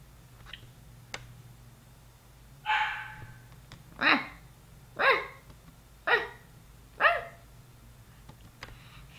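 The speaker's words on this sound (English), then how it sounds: "You guys hear my dog in the background" A dog barking in the background, five or six separate sharp barks spaced about a second apart over a low steady hum, moderately near and clear with no talk over them.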